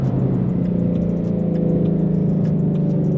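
Supercharged Shelby GT350 engine revving hard and steady, a loud, close, sustained mechanical roar with no talk over it.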